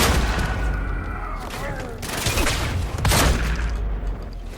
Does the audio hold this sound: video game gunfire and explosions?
yes